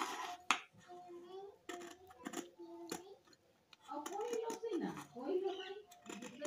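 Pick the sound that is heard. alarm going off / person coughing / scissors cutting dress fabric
scissors cutting dress fabric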